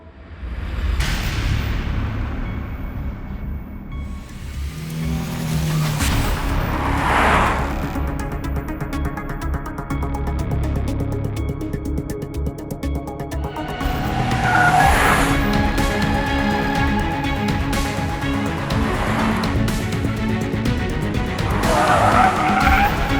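Volkswagen Tiguan Allspace 2020 petrol automatic 4Motion seven-seater SUV driven hard on twisty roads outside Gurgaon, with loud sustained engine drone, repeated tire squeal and skidding bursts, and passing whooshes throughout.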